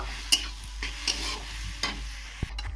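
Chilies are stirred into 14 mixed greens cooking in a pan, a low sizzle broken by several sharp spatula scrapes and clinks spaced through the moment, near and clear.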